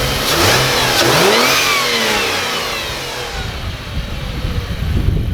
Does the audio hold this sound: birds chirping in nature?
no